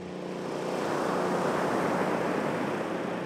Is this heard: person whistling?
no